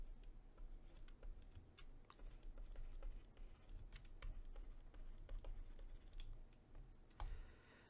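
Quiet computer keyboard typing while code is written for a game, irregular soft key clicks in bursts over a low room hum, close and faint.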